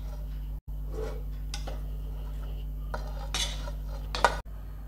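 A metal utensil scrapes milk-powder khoa from a kadhai, with short clinking and scraping strokes over a steady low background hum.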